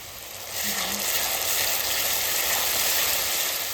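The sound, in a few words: onions frying in pan for fish curry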